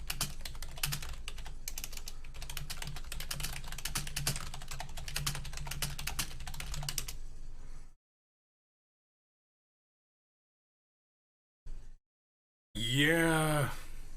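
Rapid, furious typing on a computer keyboard, a dense continuous key clatter for several seconds that stops abruptly into silence, followed by a brief tap and a short voiced vocal sound.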